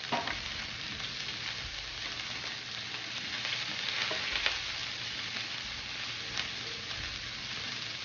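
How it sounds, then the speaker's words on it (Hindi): Ground onion sizzles and fries steadily in a hot pan, a dense, even crackle that carries on at moderate level from start to finish with no talking. "इसके बाद जो ये पिसा हुआ ऑनियन था ये आपने डाल देना है।"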